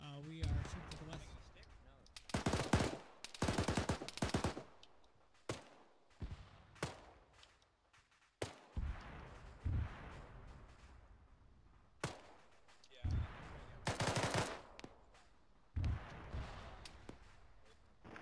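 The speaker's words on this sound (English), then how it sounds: "We are shooting to the west." Gunfire in a military shooter video game, sharp bursts and single shots cracking in irregular clusters, with quieter gaps between volleys and voices talking over the action.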